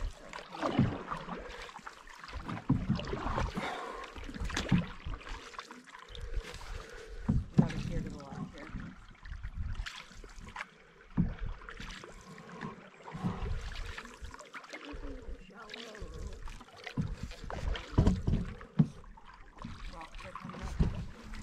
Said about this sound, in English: I'm trying to stay in the middle, so slow down your paddling.